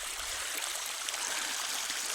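Irrigation water runs steadily through channels in a farm field where sugarcane is grown, a continuous broadband rushing and gurgling flow heard up close with no talk.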